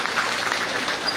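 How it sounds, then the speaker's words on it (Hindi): Steady applause from a crowd at a government foundation-stone ceremony, greeting ministers; dense, even clapping fills the whole moment without any voice over it. "सभी का एक बार जोरदार तालियों से अभिनंदन पुनः"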